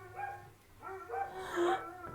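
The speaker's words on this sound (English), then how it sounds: "like everybody starts to chime in and they howl and they bark and everything" Several dogs bark and howl together at a moderate distance, their whining, wavering howls rising and overlapping into a louder chorus over about two seconds.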